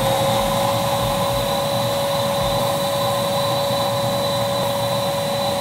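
A spray tan machine runs with a loud, steady whooshing hiss and a constant whining motor tone, unbroken throughout with no talk over it.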